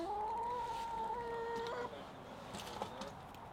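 A chicken gives a drawn-out, tonal cluck lasting nearly two seconds, followed by quieter farmyard background noise.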